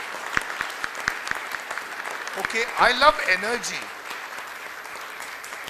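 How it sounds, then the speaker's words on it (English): Heavy audience applause at a brand summit and awards event in Pune, a steady patter of claps that runs through while someone talks over it in the middle. "Encourage yourselves with a very heavy round of applause."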